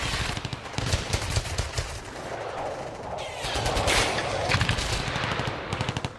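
Heavy automatic gunfire from war combat between Ukrainian troops and a Russian counterattack, dense rattling bursts and rapid shots filling the whole stretch, loud and close with no talk.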